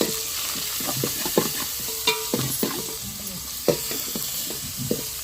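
Tomato tossed into frying biryani masala of ginger-garlic paste, coriander and mint, a continuous sizzle broken by repeated scraping stirs and spoon knocks, close and fairly loud with no talk.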